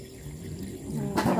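Water pours in to fill a cooking pot for suman sa gata, rising into a brief rushing splash near the end after a quiet, muffled start.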